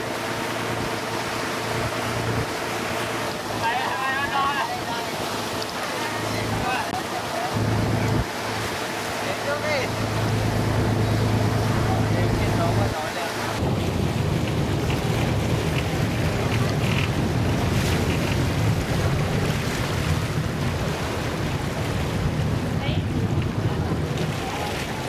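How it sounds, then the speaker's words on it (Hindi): A boat rides on water in Ho Chi Minh City, with steady rushing wash and engine rumble, wind buffeting the microphone, and faint voices in the background throughout. "अभी हम अपने बोट में आके सवार हो चुके हैं"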